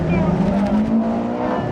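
A kit-built race car launches off the line at a FormulaG track with a loud, rising engine roar close by, and a commentator talks over the sound.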